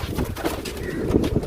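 Pigeons, including black-faced birds, coo in low, soft murmurs at close range with a steady breathy background and no talk.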